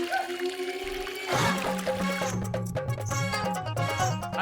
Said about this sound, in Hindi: पानी के छींटे मारने से पूरी बाल्टी नहीं उड़ेलनी थी।